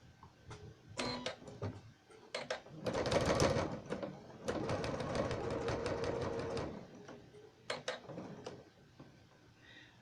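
Close by, a sewing machine stitches binding onto a pot holder, running in short whirring bursts and one longer steady run, with clicks and pauses between them.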